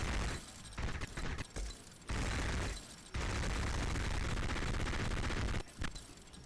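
Destructive weapon fire in the Garry's Mod Wooden Wars game, with bursts of loud, dense shots and explosions separated by brief pauses, ending in a long sustained barrage.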